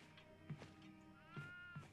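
A goat in the horror game Devour bleats faintly several times, short wavering calls spaced out over a couple of seconds with no talk over them.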